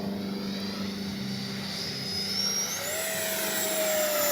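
A Freewing F-4 Phantom II RC jet flies overhead, its ducted-fan whine rising in pitch as it passes, with a steady airy rush that grows slightly louder toward the end.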